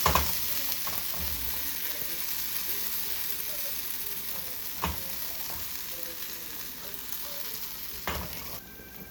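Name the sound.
raw banana fritters frying in oil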